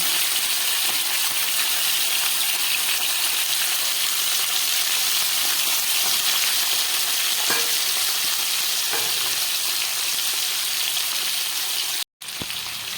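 Eggplant pieces sizzle loudly and steadily in hot oil alongside salted fish in a kadai, a dense continuous frying hiss with a few faint stirring knocks, briefly cut off near the end.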